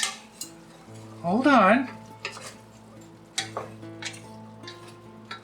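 A spoon stirs lima beans in a pot for wartime chili with a few soft scraping and clinking strokes. A brief voice cuts in, and a sustained tone hums underneath.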